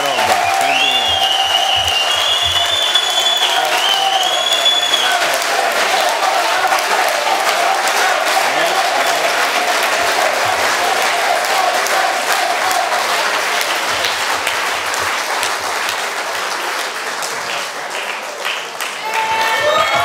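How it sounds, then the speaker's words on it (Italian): Sustained audience applause fills the hall at a regional party congress in Umbria, a dense, loud wash of clapping from a large crowd lasting the full twenty seconds with only slight dips near the end. "Fate un applauso."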